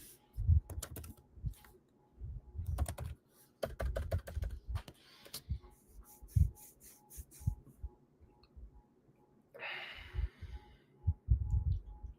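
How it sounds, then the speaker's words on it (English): Typing on a computer keyboard, with close bursts of rapid key clicks separated by short pauses and a longer gap, each burst sounding crisp against a quiet room. "what I'm just gonna do is go ahead and type this out"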